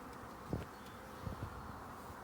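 Honeybees buzz at a hive during a nuc pickup at a beekeeper's apiary, a steady close drone with a few soft thumps and knocks scattered through it.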